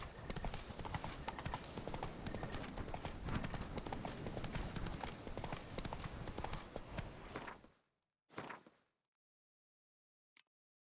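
Roach the horse's hooves clip-clop in a steady galloping rhythm in The Witcher 3: Wild Hunt, loud and continuous for about eight seconds, then stopping, followed by a brief snort and a short click.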